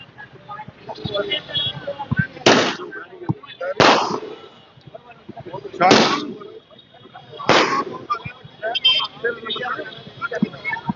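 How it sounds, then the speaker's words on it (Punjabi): Four loud firecracker bangs burst at irregular intervals over a crowd of voices talking and shouting nearby, at a BJP election victory celebration in Haryana. "ਪਟਾਕੇ ਵੀ"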